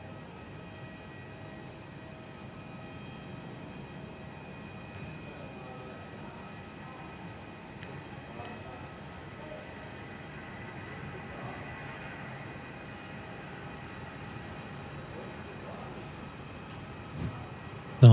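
An Air Mauritius airliner on its takeoff roll at Perth Airport, heard as a steady, moderately distant jet engine roar and rumble that holds evenly for a long stretch, ending with a sharp close knock.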